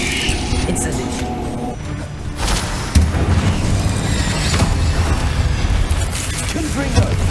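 An Incendio fire spell cast in Hogwarts Legacy, a dense roaring burst of flame and crackle that swells midway and holds, with a voice speaking under the dense mechanical game noise.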